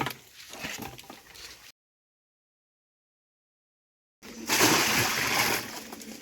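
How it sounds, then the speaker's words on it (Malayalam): Water splashes and sloshes in two bursts separated by a stretch of silence, the second burst louder and fuller, like water poured onto green leaves layered in a container for making green manure. "വെള്ളം ഒഴിക്കും."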